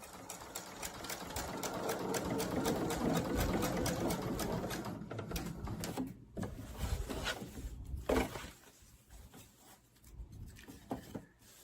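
An embroidery sewing machine stitches a butterfly design onto a messenger bag, running in a steady rapid mechanical patter for several seconds, then pausing and restarting in short bursts with clicks between them, close and clear with no talking.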